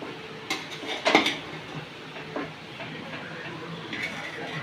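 Vegetable biryani is stirred in a pot at home, producing a few sharp metallic scrapes and clinks of a spoon against the vessel, close by, over a quiet hissing background.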